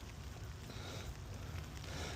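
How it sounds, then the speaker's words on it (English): Rain pattering steadily on a poncho outdoors, a soft, even hiss of fine drops close by with no distinct individual hits. "you can probably hear the rain coming now. Pitter-pattering on my poncho here."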